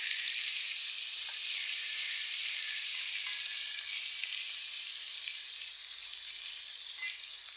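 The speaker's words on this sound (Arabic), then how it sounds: "هحمر التوميه واحط الطماطم عليها وارجع لكم" Garlic frying in a pan, with a steady, close sizzle that holds evenly throughout and no voices.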